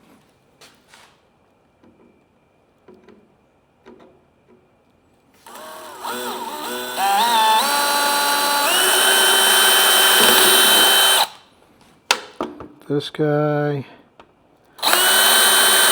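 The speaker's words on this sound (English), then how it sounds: "We're gonna drill out these seats." A power drill with an eighth-inch pilot bit whines steadily as it bores pilot holes into metal for seat mounts, stopping briefly, then a second shorter burst and another start near the end; a voice speaks briefly.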